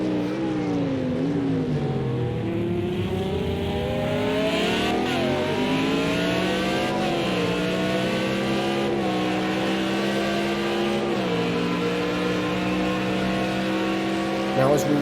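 A GT1 race car engine screams around Spa in Project Cars 2, revving loudly through repeated gear shifts, with a rising and falling pitch and a steady close roar throughout.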